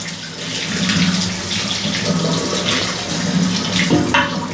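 Tap water runs steadily over a plumbing part from a low-pressure bathroom washbasin faucet as it is rinsed, a continuous close splashing hiss with small shifts as the part moves under the stream.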